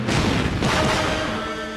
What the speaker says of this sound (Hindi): पटाखे? तुम यहाँ दिवाली मना रहे हो क्या?